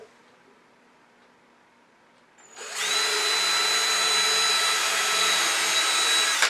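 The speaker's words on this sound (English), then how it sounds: "Then we're going to come in here and drill a hole for his nose" A power drill starts after a quiet moment and bores a nose hole in a DIY gonk with a dull bit, a loud, steady, close whirring that runs to the end.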